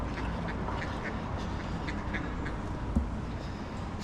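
Ducks at a waterside spot in Karlovy Vary quack repeatedly in short scattered calls over a constant background wash, moderately distant and fairly faint.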